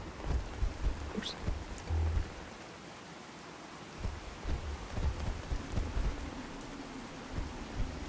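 Rain and thunder from the Fallout 4 video game: a steady hiss of rainfall with low, rolling thunder rumbles that swell and fade throughout.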